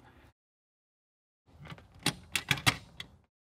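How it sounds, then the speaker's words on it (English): Snap mousetrap, the Kat Sense model, being set: a brief faint sound at the start, a pause, then a short cluster of sharp, close mechanical clicks as the top lever is pulled back and latches into place, with no voices. "The way you set it is you pull back this top lever and it clicks in place with an easy click."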